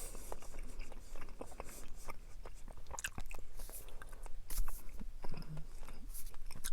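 Someone chews Extra Polar Ice gum close to the mic, with soft wet chewing clicks and mouth smacks in an uneven rhythm.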